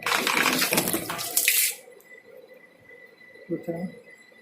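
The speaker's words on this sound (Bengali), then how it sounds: "জল উঠছে, দেখতে পাচ্ছেন দেখুন" Small cooler water pump motor being tested in water: loud splashing and gushing flow at first, then it cuts to a faint steady hum with a thin whine, with a short burst of talk near the end.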